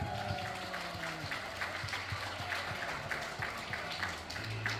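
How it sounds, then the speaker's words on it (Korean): Wedding guests at a Korean ceremony clap in a steady rhythmic beat over background music, the applause moderately loud and continuous. "여러분들 뜨거운 박수까지 부탁드립니다."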